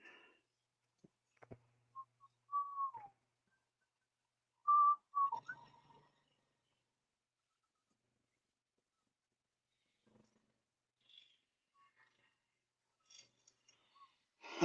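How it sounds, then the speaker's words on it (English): A person whistles with mouth closed in a few short, soft tonal chirps separated by long silences, with faint scattered clicks in between. "I'm the only person you know that can whistle with their mouth closed because I have a built-in whistle notch."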